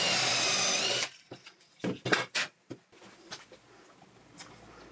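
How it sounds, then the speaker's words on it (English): A power drill whirs loudly for about a second, drilling an 8mm hole for a locating dowel, then stops, followed by a few scattered knocks and clatters of tool handling. "drill out an 8mm hole for the locating dowel"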